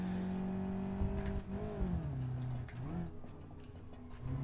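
An Ibishu Covet with a weak 79-horsepower engine drones and revs through its gears on a track lap in BeamNG, a steady strained engine note rising and falling in pitch with throttle changes, alone and fairly close.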